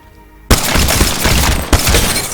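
Pistol fire in Apex Legends, a dense burst of loud game gunfire starting abruptly after a quiet moment, with a second sharp shot near the end.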